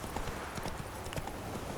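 A horse's hooves clip-clop in a quick, steady rhythm in The Witcher 3 game, fairly faint and close, with a brief game sound alongside.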